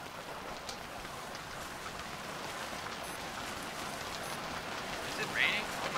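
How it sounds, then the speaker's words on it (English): Rain in the video game Stranded Deep falls as a steady, soft hiss of drops pattering on surfaces, continuous and even, with faint scattered effects on top. "Is it raining?"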